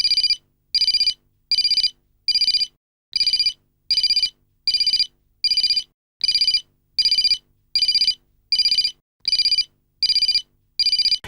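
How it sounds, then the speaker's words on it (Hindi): A phone rings unanswered in a domestic comedy scene, about fifteen evenly spaced electronic ringtone bursts in a steady on-off rhythm, loud and clear with no talking over them. "रिंग बजी जा रही है, फोन ही चकता"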